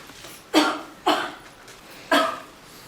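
A woman coughs three times nearby, two quick coughs then a pause before a third, with quiet in between.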